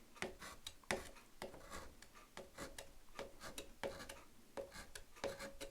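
A painting knife scrapes paint onto a canvas to form fence posts in a snowy mountain landscape, giving a string of short, dry, raspy strokes at an uneven rhythm, close up and fairly quiet, with no talking.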